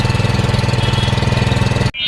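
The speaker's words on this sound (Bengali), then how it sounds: "ইঞ্জিনের সাউন্ডটা শুনেন আপনারা।" A WEMA Japanese-technology mini hand power tiller engine idles close by in a steady, rapid, even chugging, loud throughout, then cuts off sharply near the end.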